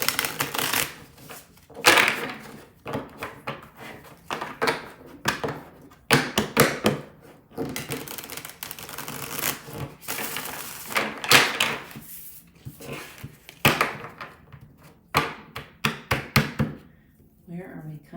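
Tarot cards are shuffled and drawn in a series of close, crisp riffling and slapping bursts, with soft taps and gaps between them.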